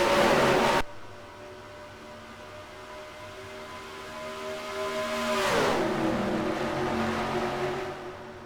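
Race car engines whine and accelerate around Charlotte Motor Speedway, a loud burst cutting out before a steady engine drone rises, with one car sweeping past and its pitch dropping midway.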